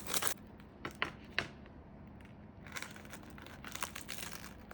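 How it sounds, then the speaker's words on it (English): A knife cutting through a cheesy, onion-topped dinner, quiet crinkly crunching bursts with a few sharper crackles as the blade goes through, close and faint. "I'm gonna cut this in half so we can see that beautiful inside."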